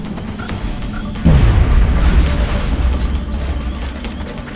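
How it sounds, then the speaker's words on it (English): A thrown grenade explodes in a video game. Low background noise gives way to one sudden, loud, close boom that falls into a deep rumble and fades slowly. "Throwing grenade!"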